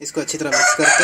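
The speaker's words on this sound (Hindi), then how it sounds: "मुर्गे रखे हुए हैं जी, उनकी आवाज़ें आ रही हैं।" Chickens kept near an outdoor kitchen where batter is mixed, with roosters crowing and hens clucking in close, repeated bursts under a person speaking.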